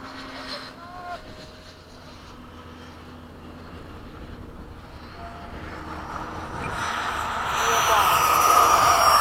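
An F-16 jet making a pass at an airfield, its roar building from a distant rumble to a loud, broad whoosh over the final seconds, with a faint voice early on.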